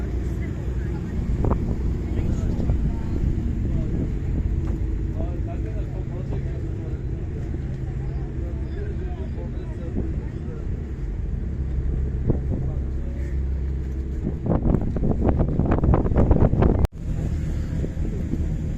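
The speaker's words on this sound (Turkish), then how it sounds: "Eminönü Kadıköy vapurundayım. Kadıköy'e doğru ilerliyorum." The Eminönü–Kadıköy ferry moves across the Bosphorus with a low, steady engine rumble and wind buffeting the microphone on the top deck, the noise swelling near the end before a sharp knock.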